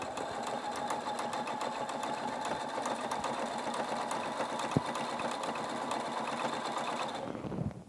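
A Husqvarna Viking Topaz 40 sewing machine runs steadily while free motion quilting, making a close, even, rapid stitching whir with one brief click. It stops just before the end.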